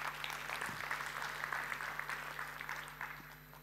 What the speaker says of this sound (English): Jörg is applauding, so if you want, you can.